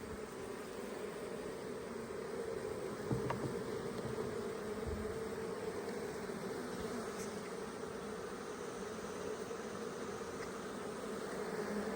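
Dense, steady buzzing of honey bees in an Apimaye hive during a nuc split, a continuous close hum with no one talking.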